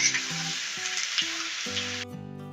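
Loud, steady sizzling of onions frying in oil, with occasional stirring and tonal hum underneath, ending abruptly.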